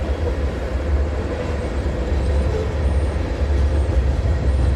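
A freight train with no DPU and no containers rolls past at Bronte in a continuous, loud, deep rumble of wheels on track that holds steady throughout.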